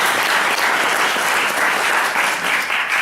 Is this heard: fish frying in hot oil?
no